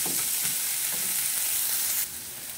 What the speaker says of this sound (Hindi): अब इसके बाद अनियन को हम अच्छे से 2 मिनट तक भूनेंगे।